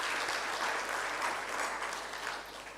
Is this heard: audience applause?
yes